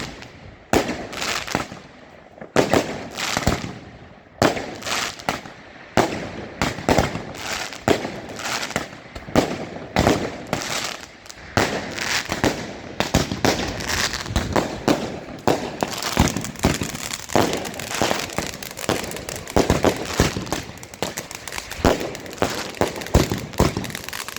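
New Year's Eve fireworks and firecrackers in Metz, France: a dense, continuous barrage of sharp bangs and crackling bursts, some close and loud, others more distant, rolling on without pause.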